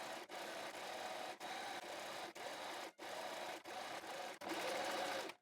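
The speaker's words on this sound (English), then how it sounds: "we place the right sides together and we stitch along this line with a seam allowance of about 1/4 of an inch" Sewing machine stitching a 1/4-inch seam through two layers of fabric placed right sides together, a steady close whirring run broken by several brief pauses, with a louder final burst.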